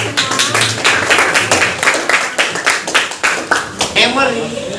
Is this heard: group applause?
yes